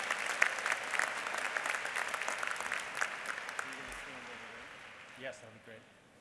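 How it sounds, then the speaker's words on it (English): Audience applause for Doctor of Policy Planning and Development graduates of the Class of 2015 at a USC Price commencement ceremony, dense steady clapping that thins out toward the end, with a few faint voices underneath. "Let's give a round of applause to our Doctor of Policy Planning and Development graduates"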